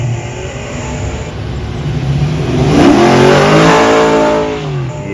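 A classic car's engine revs steadily while driving, building to a loud, sustained peak midway before easing back, heard from inside the car with no talking.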